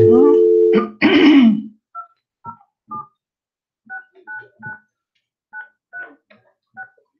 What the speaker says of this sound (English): Sure, go ahead, make a phone call.